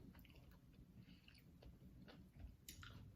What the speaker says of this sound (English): I wish y'all can hear my chews. It's so loud.